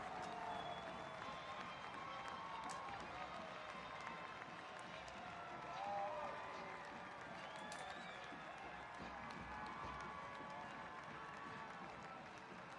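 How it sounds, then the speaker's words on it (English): A big stadium crowd at a Hartford Athletic soccer match roars and applauds after a goal, a dense, sustained wash of cheering heard from a distance, with some talk mixed in. "the big crowd roars of approval"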